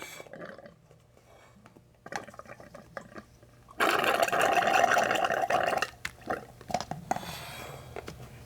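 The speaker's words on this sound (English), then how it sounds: "Put the container in one of the tubes, hold the cup there, and simply squirt." Water is squirted by hand through the clogged cooling tubes of a water-cooled CNC spindle, first as faint drips and trickles, then as a loud burst of gurgling, spraying flow that tapers into sputters and drips.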